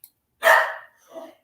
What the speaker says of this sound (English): barking their heads off.